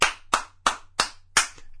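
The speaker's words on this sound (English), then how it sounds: "give Nintendo a round of applause" A person claps their hands five times in an even, steady rhythm, each clap sharp, close and crisp against a quiet background, with no talking.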